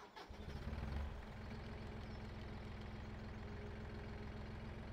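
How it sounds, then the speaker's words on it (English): Small Massey Ferguson tractor engine in Farming Simulator 17, starting with a brief rising burst and then settling into a steady, even idle with a low rhythmic chug, close and alone. "Sounds like a cross between a tractor and a lawnmower"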